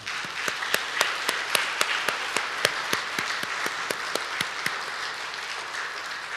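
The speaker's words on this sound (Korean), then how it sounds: "우리 큰 박수 한번 해드리세요" A church congregation at a Korean church service claps together in a steady, rhythmic unison beat, sharp regular strikes repeating at an even pace with no talking over them.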